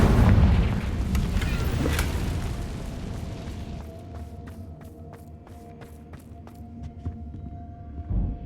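A Confringo fire spell in Hogwarts Legacy bursts with a loud, deep boom at the start, then rumbles and fades into a ringing, crackling tail dotted with small sparkly pops.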